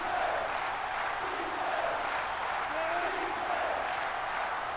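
Stadium crowd noise from NCAA Football 06, a steady roar of a large audience during a college football game, loud and continuous throughout with faint swells, no voices talking over it.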